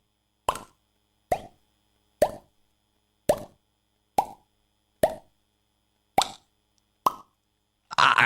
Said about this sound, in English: Just the pop of a cork.